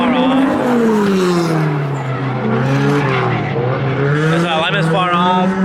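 A Mazda RX7 with a laggy turbo, poor tires and a misaligned, right-hand-drive setup drifts on a track. The engine screams and climbs loudly while the tires squeal through long slides, a continuous close roar.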